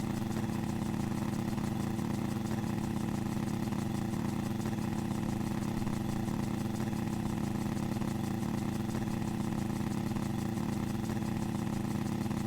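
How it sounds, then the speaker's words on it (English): Helicopter engine running steadily in Microsoft Flight Simulator, a barrel-built contraption heli, droning continuously with a constant low buzzing hum and no change in pitch throughout. "if there's a helicopter with an engine running, don't stand anywhere near it"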